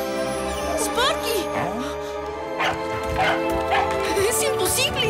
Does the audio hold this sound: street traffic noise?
no